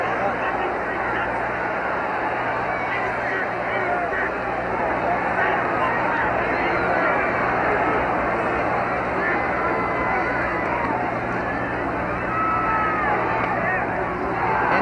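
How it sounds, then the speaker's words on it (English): A stadium crowd at an NFL game between the Atlanta Falcons and the Miami Dolphins roars in a continuous, dense wall of noise, with a broadcaster's voice faintly underneath. "that little slide fired the crowd up"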